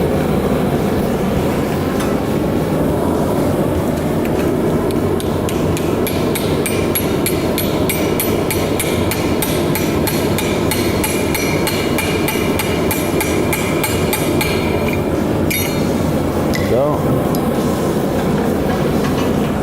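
A blacksmith hammers metal on an anvil, using a hardy tool to hold and fold a leaf, producing rapid, steady metallic strikes over a dense, continuous background clatter.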